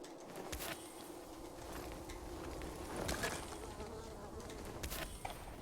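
Bees buzz in the video game Dying Light 2, a steady insect drone with a few sharper swells, heard close amid game ambience.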